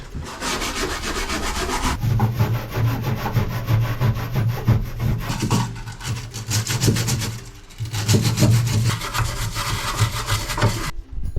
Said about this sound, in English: so I can give a good scrub on a quadrant